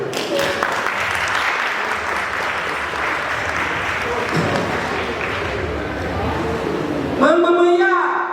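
Dense, sustained applause from a gala audience fills the hall, steady clapping throughout, then a voice breaks in over the tail end of it.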